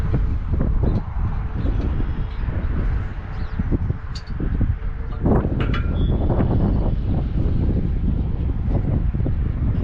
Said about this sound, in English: It is so doggone windy out here